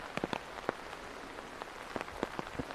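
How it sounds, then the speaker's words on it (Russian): Rain drips in a forest near a palace in Chraplewo, Poland: scattered faint drops tap irregularly on leaves and ground over a soft steady wash of rainfall. "И дождь капает."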